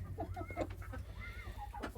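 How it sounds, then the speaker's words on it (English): A couple of hens cluck softly close by outdoors in freezing winter snow, with short, irregular clucks over a low steady background hum. "we've got a couple of hens that are going to be out here too."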